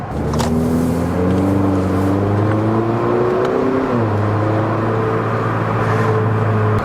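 An Acura ILX A-Spec car with about 80K miles accelerates hard through a gear change, its engine tone rising and then dropping sharply before it climbs again, loud and steady from inside the cabin with no talking.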